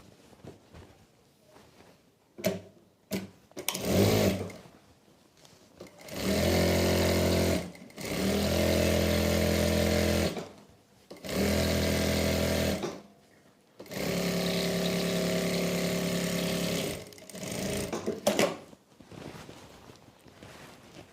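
A sewing machine stitches together the cut pieces of a salwar in four sustained loud runs of steady whirring, separated by brief pauses with handling clicks and fabric shuffling.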